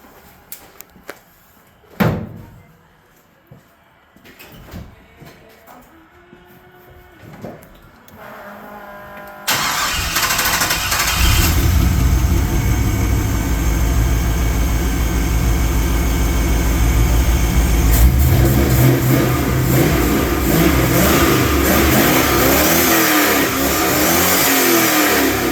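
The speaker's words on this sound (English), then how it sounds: "we can hit the key and she'll fire right up" After a stretch of quiet clicks and knocks, an LS-swapped 1968 Chevrolet Impala cranks and fires, then its V8 rumbles loudly at idle with a few throttle blips and revs swelling near the end.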